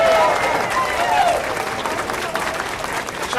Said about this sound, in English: Another big round of applause for Governor Ed Rendell.